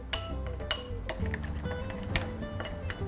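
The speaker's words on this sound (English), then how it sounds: "Just going to take an ordinary spoon, stir this all together." A spoon stirs parsley, garlic powder and coarse black pepper together in a bowl, giving repeated bright clinks and scrapes against the dish at an irregular, brisk rhythm, close and clear.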